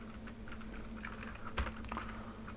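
Code being typed on a computer keyboard during a CSS styling tutorial, a quick run of close, light key clicks with no talking.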